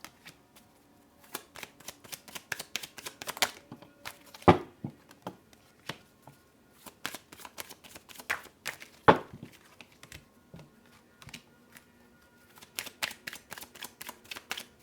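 Tarot cards are shuffled and cut in a quiet room, producing bursts of quick, crisp flicks and riffles with a few louder slaps of the deck, close and alone with no voices.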